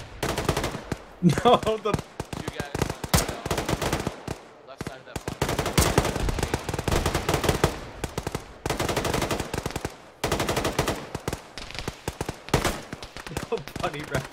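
Machine gun fire in the Arma military game during a ShackTac squad assault rattles in long, loud bursts separated by brief pauses, with radio chatter and voices talking over the shooting.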